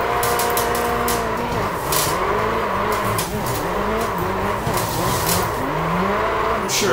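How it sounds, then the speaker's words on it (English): A Corvette C8.R race car in the iRacing video game doing donuts in the pits, a continuous loud engine drone with rising and falling revs and tire squeal throughout. "let's go ahead and send it for some donuts in the pits."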